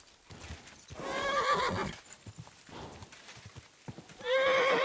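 A horse in Kingdom Come Deliverance 2 clip-clops along with quick hoofbeats, then lets out loud whinnies, once near the start and again at the end, close and clear with a little background noise.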